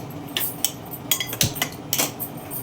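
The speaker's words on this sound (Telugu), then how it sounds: "స్టవ్ మీద ప్యాన్ అయితే పెట్టేశాను" A pan is set down on a kitchen stove with several sharp metallic clanks and scrapes, close and fairly quiet, in an otherwise still room.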